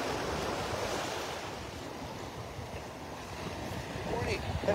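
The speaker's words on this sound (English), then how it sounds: "Enjoying the sounds of the little waves here breaking on shore." Little waves break on the shore at the beach of Delnor-Wiggins Pass State Park, a soft continuous wash of surf mixed with wind noise, swelling slightly louder toward the end.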